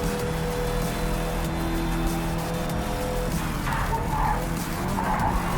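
A race car in Project Cars 3 drives with a steady engine drone and long, continuous tire squeal and skidding, loud and close throughout, with no talk.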